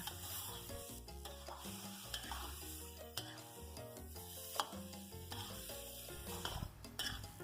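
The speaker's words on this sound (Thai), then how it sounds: "เราก็จะ ผัดยอดมะพร้าวนะคะ ให้เขาจนสุกนะ" Young coconut shoots are stir-fried in a pan with curry paste and beef balls, a soft sizzle broken by frequent scraping and clinking of a utensil against the pan, quiet and close, with no talking.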